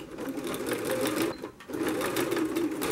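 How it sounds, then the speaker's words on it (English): A sewing machine runs fast and steady, stitching a border onto a channeled seat cushion, pausing briefly midway before the rapid needle clatter resumes, close and loud. "Sew down here, forward and back"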